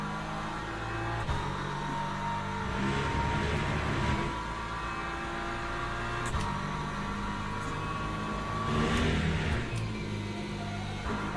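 A BMW race car's engine in the Le Mans Ultimate racing game drones steadily through a multiclass race at Silverstone, a continuous loud roar with slight rises and falls in pitch.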